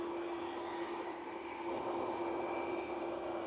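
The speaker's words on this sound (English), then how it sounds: "Ryanair's departing now." A Ryanair jet departing Manchester Airport gives off a steady, loud, broadband engine roar with a sustained whine, continuous and unbroken throughout with no voices.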